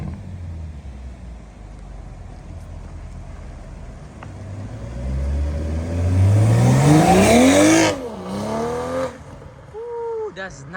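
A 2nd-gen BMW M440i with a B58 engine and catless downpipe exhaust revs hard nearby, climbing from a low idle rumble to a loud rising howl, dropping, then blipping again, with voices around it.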